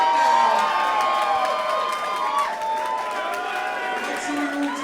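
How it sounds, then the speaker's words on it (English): A crowd at a white collar boxing event in London cheers and shouts with scattered applause, a sustained roar of many voices with whoops rising and falling, lasting the whole time at fairly loud level. "Round of applause right now."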